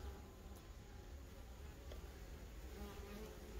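Steady, dense buzzing of many honeybees at close range at the hive, with occasional individual bees droning past the microphone.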